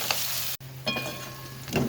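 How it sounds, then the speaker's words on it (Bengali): Large potato pieces sizzle in hot oil for chicken biryani, a dense close frying hiss broken by a brief dropout and a couple of stirring scrapes. "এখন আলুটাকে ভেজে নিব। আমি একদম বড় বড় পিস করে কেটে নিয়েছি,"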